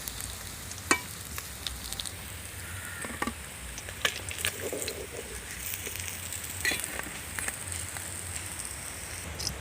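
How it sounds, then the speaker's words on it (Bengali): Khoira fish, a small fresh river fish, frying in a pan of oil with a steady close hiss, scattered crackles and sharp pops across the clip, and no talking. "আবার আর একবার আমি মাছগুলো ভেজে দেখাচ্ছি।"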